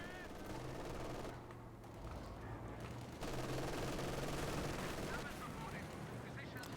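MG42 machine gun fire in a Company of Heroes 2 match, heard as a dense rattle of rapid gunfire beneath game ambience and other battle noise, with steady volume that swells partway through and a commentator speaking over it.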